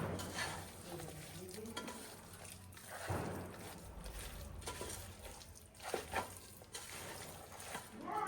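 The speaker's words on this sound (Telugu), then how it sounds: "వేసుకొని మంచిగా కలుపుకోవాలి." Kasuri methi being stirred into a curry in a cooking pan, with a steady scraping and stirring rustle over a soft background sizzle, close by and moderately quiet.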